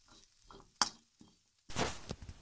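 Taro root frying in a pan, a broadband sizzle that swells loud and steady in the last second after quieter stirring scrapes and a sharp clink of a utensil against the pan.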